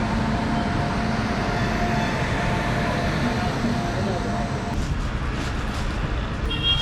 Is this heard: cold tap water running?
no